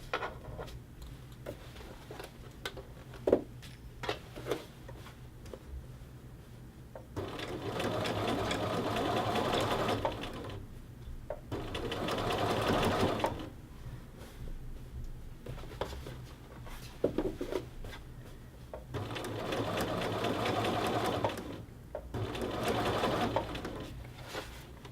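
A sewing machine stitches the collar band facing of a men's shirt in several long, steady runs separated by short pauses, close and fairly loud, with a low steady hum underneath.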